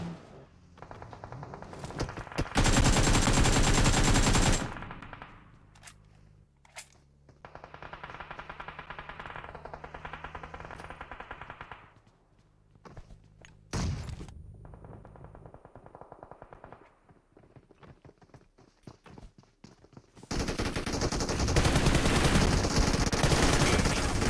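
Automatic bursts of MG3 machine gun fire in PUBG Mobile, loud and close, several sustained volleys separated by quieter stretches of game sound, with a final heavy barrage at the end.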